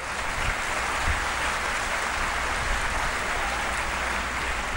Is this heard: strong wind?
no